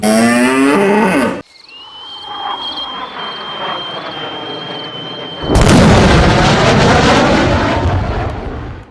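A cow moos loudly and close, a long drawn-out low call, followed by a quiet stretch with a steady high insect-like whine, then another loud bellowing moo that fills the rest.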